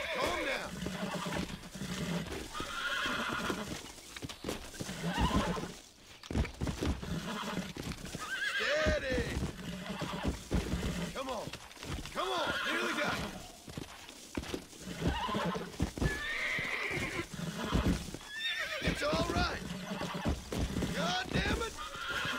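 Horse in the Red Dead game neighing and whinnying repeatedly, with clip-clop hoofbeats and snorts, close and fairly loud, while someone talks over it throughout.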